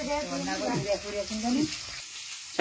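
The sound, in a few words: egg frying in a pan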